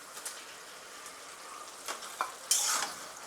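Prawns go into a pan of masala frying on a low gas flame, with a soft steady sizzle, a few light scrapes of stirring, and a brighter hiss near the end.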